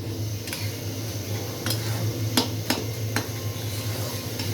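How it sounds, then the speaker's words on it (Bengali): Beef with hot tomato sauce being stirred in a pot for tehari, a spoon scraping and clinking against the metal at irregular intervals over a steady low background hum, with no talking. "এখন আমি ভালো মতো এটাকে কষাবো।"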